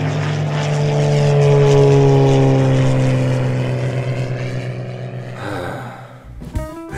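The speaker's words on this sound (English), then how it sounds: "Hey Mario, you see the airplane?" A propeller airplane drones loudly overhead with a steady, slowly shifting engine hum that swells and then fades, ending with a few clattering sounds.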